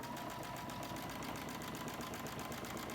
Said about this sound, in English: And then we just start sewing.